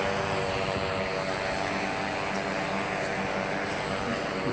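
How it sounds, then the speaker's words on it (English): A camera drone flies overhead outdoors, its propellers giving off a loud, steady, dense buzzing whir that holds constant throughout without a break. "There's Sylvia actually watching the see-through camera on top of the drone, which is up here flying."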